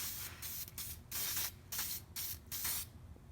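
Loctite sprayed onto a VW Beetle floor pan in six or seven short aerosol bursts, each a close, sharp hiss separated by brief pauses.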